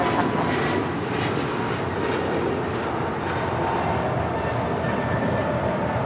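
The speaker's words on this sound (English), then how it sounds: "This is American Airlines 2646 departing to Philly on an A321neo." An American Airlines Airbus A321neo departing LAX roars loud and close, with a dense, continuous engine rumble and hiss that stays level throughout, no voices.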